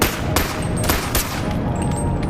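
Rapid, loud shots from an unnamed gun in the VR game Bonelab crack in quick succession over about two seconds, close and sharp, with no voices.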